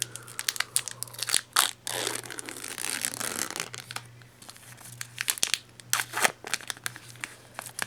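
Foil wrappers of two Magic: The Gathering Battle for Zendikar booster packs crinkle and tear up close, with loud bursts of crackling and crunching that are heard alone without any talk.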